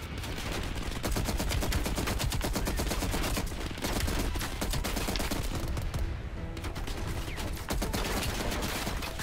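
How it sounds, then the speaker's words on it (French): Sustained mounted turret fire in Call of Duty Black Ops Cold War, shot while hanging upside down: a loud, continuous rapid burst of automatic gunfire that barely lets up across the whole stretch. "utiliser la tourelle la tête en bas, on voit pas ça tous les jours"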